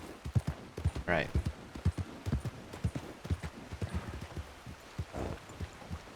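Steady hoof clip-clops from several horses in a video game, rhythmic and fairly close, with a short whinny rising over them.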